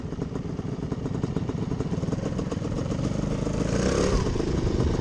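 A vintage 125 DR or XLR enduro motorcycle engine revving steadily and close by, its rattling buzz building and growing slightly louder toward the end, with no voices.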